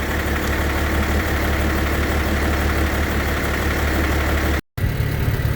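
Diesel Allis-Chalmers D-17 tractor engine idling with a steady, loud, rough low chug, cut by a brief gap near the end before resuming.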